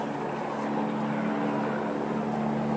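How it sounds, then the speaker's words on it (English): A helicopter passes overhead, a loud steady drone with a low hum that fills the whole stretch. "Is there a helicopter coming by here?"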